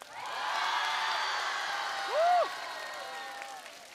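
A studio audience at a televised singing competition applauds, with a dense clapping that swells and then fades. A short whoop or cheer rises above the clapping midway, with no talking over it.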